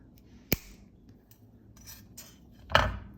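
Jewelry wire for earrings is snipped with cutters, giving two sharp metallic clicks close up, one early and one near the end, with faint small handling noises between them.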